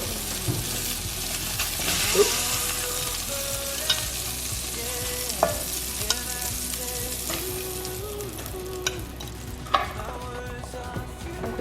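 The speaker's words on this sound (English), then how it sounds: "Oh, listen to him sizzle." Mushrooms frying in a pan sizzle steadily and fairly close, with occasional clinks and scrapes of stirring and faint background tones running under the constant crackle.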